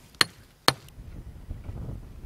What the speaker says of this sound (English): a few hits with a hammer convert the sandstone back into a sand